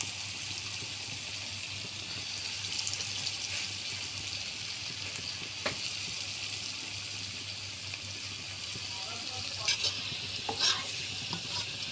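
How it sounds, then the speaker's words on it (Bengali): Pumpkin fritters fry in hot oil, giving a steady close sizzle throughout with occasional brief stirring clinks and scrapes, and no talk. "বাকিগুলো এইভাবে ভেজে নেব"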